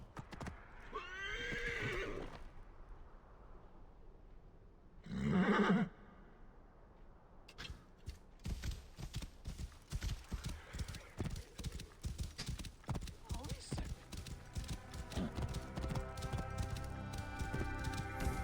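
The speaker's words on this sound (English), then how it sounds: "Let's call my horse so we get there a lot faster." Horse neighing in a video game: a loud whinny near the start, a short snort, then steady galloping hoofbeats that clip-clop rhythmically and continuously until the end.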